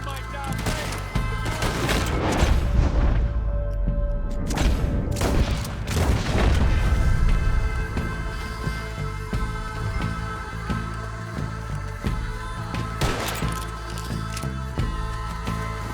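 Gunfire in Red Dead Redemption 2: repeated loud shots and booming blasts burst across the scene, dense in the first seven seconds and returning near the end, with heavy low rumbling echoes between them.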